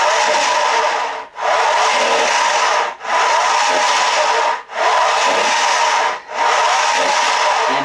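An old Handy Gym portable exercise machine runs loudly with a steady grinding, rasping whir, and the noise dips briefly every second or two in four rhythmic cycles.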